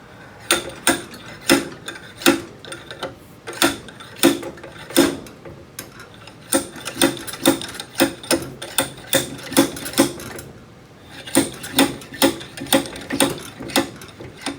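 Metal parts being tapped into place on a 1977 Honda CT70 fitted with a Lifan 125 engine: sharp, close taps arriving in irregular clusters with brief pauses, plus small mechanical clicks, and no talking.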